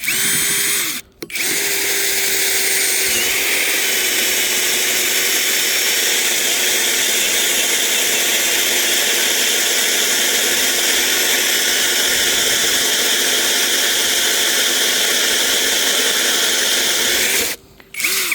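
A power drill grinds continuously at high speed into a steel rail, briefly stopping near the start and again near the end.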